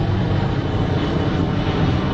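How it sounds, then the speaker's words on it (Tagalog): Airplane passing overhead outdoors, a loud, steady engine roar filling the whole short stretch with no voices. "may aeroplano pa"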